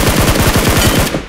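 Rapid automatic gunfire from the video game PUBG Mobile, a loud, dense burst of evenly spaced shots rattling for over a second before stopping abruptly.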